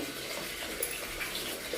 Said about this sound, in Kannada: ಜಸ್ಟ್ ಏನೇ ನೀರು ಬಂದ ನೋಡ್ರಿ